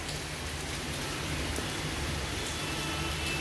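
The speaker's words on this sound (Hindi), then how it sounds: "तो यहाँ पे हो रही है बारिश गुड़गांव में" Steady rain pours down outdoors in Gurgaon during a household move, a continuous dense hiss of falling water and drops on surfaces with no voices.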